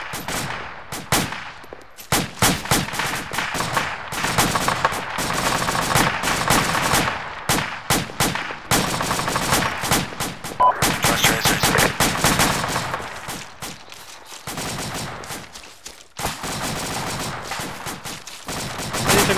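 A squad opening fire in the military video game Arma 2 during a beach landing: sustained, dense rifle and machine-gun fire, rapid overlapping bursts rattling loud and close for nearly twenty seconds with only brief lulls.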